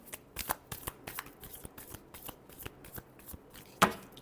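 Tarot cards are shuffled by hand in a steady run of crisp, close riffling bursts, each soft flutter followed by a louder snap near the end, with no voices.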